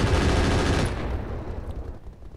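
An anti-missile system on a mech fires in the Roguetech BattleTech video game: a dense, loud stream of rapid shots that rattles continuously, then thins and fades toward the end.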